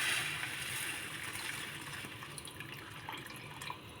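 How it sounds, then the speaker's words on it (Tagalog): Water pours steadily into a cooking pot of chicken tinola, a continuous splashing gurgle that gradually softens as the pot fills. "Lagyan ko na siya ng tubig"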